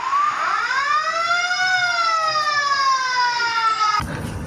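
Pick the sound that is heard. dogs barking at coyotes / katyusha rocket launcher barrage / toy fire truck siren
toy fire truck siren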